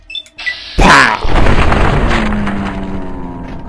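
A sawn-off double barrel shotgun fires in a video game with one loud, sudden blast after a few small clicks, followed by a long rumbling decay.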